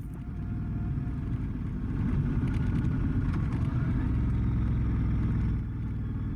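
A Honda Transalp motorcycle rolls slowly over loose gravel, its low engine drone steady and close with a gentle rise and fall, a faint crunch of tyres beneath it.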